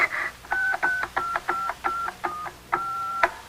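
A telephone is dialed as a radio drama sound effect, about ten short tones pulsing in an even rhythm with one longer tone near the end, close and clear.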